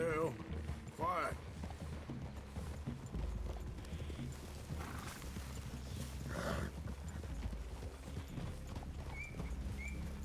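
Rhythmic clip-clop of horse hooves in Red Dead Redemption 2 under steady background sound, with voices talking intermittently over the footsteps.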